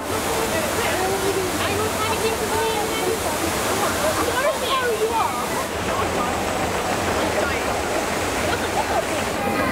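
Rushing, roaring water from the Rumba Rapids river-rapids ride at Thorpe Park, a loud, steady wash of churning flow that lasts the whole clip with no speech over it.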